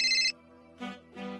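A mobile phone ringtone chimes in bright, steady bursts, a loud opening ring followed by a pause and then two more rings in quick succession, heard alone with no voices over it.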